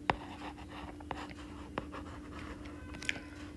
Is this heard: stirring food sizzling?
no